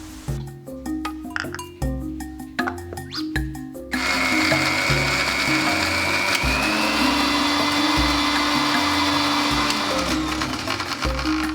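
Electric mixer-grinder blending coconut paste with green chilies and water for steamed hilsa, loud and steady after a few seconds of clinking and brief bursts, a continuous close whirring drone with no talk.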